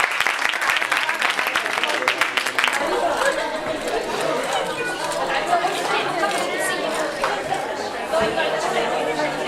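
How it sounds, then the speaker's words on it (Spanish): Audience applause at a cultural centre event with a choir performance, steady dense clapping mixed with crowd chatter throughout, fairly loud and close. "Un aplauso para ella."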